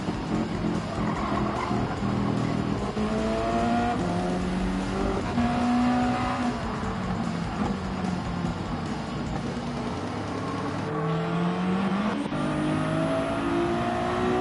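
Race cars, an AMG and a Ferrari, roar continuously with engines revving and pitch rising and falling as they accelerate and shift, loud and sustained throughout without talk.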